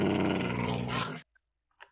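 Dog growling in a survival horror video game, a loud, close, rumbling snarl lasting just over a second, then silence broken by short faint yips.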